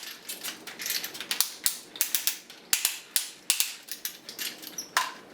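Ratchet joints on a third-party Combiner Wars toy figure click sharply as the plastic limb is moved, a close series of irregular crisp clicks and snaps in short bursts, with no voices.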